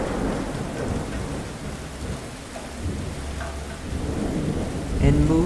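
Steady rain falls with rolling thunder in a continuous thunderstorm, a dense hiss of drops over low rumbles that swell toward the end, with no talking.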